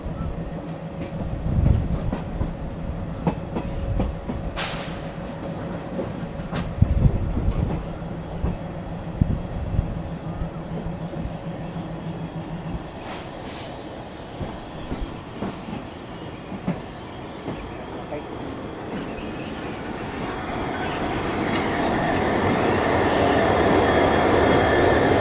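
An ALCo WDM 3D diesel locomotive chugs loudly nearby while its train rolls along, the rhythmic engine beat mixing with clattering wheels, occasional squeals and a rising rumble toward the end.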